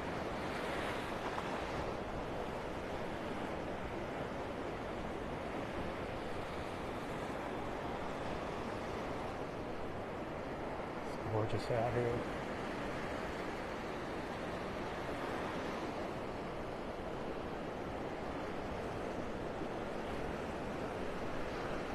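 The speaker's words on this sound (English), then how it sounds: "Love these little waves right here. It's so beautiful." Small ocean waves wash steadily onto Vanderbilt Beach in North Naples, Florida, with a soft, continuous rush, wind noise in the background and a brief murmured comment.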